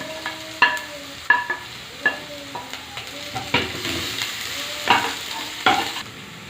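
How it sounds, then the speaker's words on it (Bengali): Onions with garlic and ginger paste stirred and sizzling in a pan, a steady fry with repeated scraping strokes of a spoon knocking against the pan at irregular intervals, close and clear. "এবারে পেঁয়াজের মধ্যে দিয়ে দেবো রসুন বাটা আর আদা বাটা"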